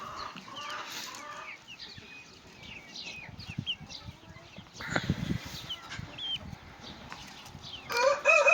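Two-month-old chicks, some of them young roosters, cluck and chirp in a coop, soft scattered calls with occasional louder squawks and faint rustling, moderately close.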